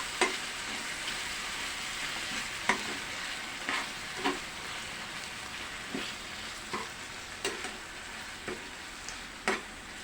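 Pork sizzling and frying in a pan, a steady crackling hiss with repeated stirring scrapes at irregular intervals, close and moderately loud with no talking.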